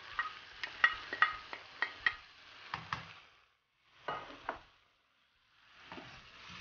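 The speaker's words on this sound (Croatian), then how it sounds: "U tavu vratimo povrće." Vegetables such as pumpkin and zucchini are returned to a frying pan with vinegar and soy sauce and stirred: a quick run of close scraping and clacking strokes, a pause, then a few more stirs, moderately faint.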